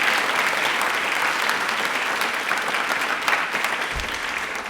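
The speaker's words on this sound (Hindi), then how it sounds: "एक बार तालियां प्लीज जोरदार बजा दीजिए।" Enthusiastic audience applause fills a studio at an Indian Railways quiz show, a dense, steady wash of many hands clapping loudly and continuously from start to finish with no voices on top.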